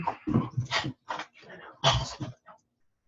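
Dogs indoors give a series of short whimpers and yips in uneven bursts, close and moderately loud, before falling quiet.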